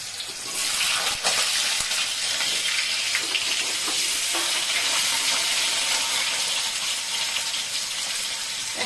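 Long strips of potato fry in hot oil with black cumin in a pan, a loud, steady hiss and sizzle that carries on with no talking.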